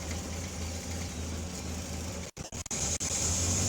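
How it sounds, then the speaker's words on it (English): A 1962 Triumph TR4 engine idles steadily with the choke pulled out, a constant low hum broken near the end by a few brief dropouts. "Choke work, that out, that's why the idle went up."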